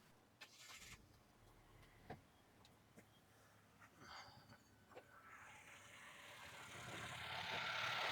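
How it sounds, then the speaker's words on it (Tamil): Several sharp clicks, then the three-cylinder engine of a 2024 Citroen C3 Aircross turns over around the midpoint and settles into a steady, close idle hum that grows louder toward the end. "இன்ஜின் பொறுத்த வரைக்கும் எப்படி இருக்குது, ரிஃபைண்டாக இருக்கா இல்லையான்னு ஸ்டார்ட் பண்ணி பார்த்துடலாம்"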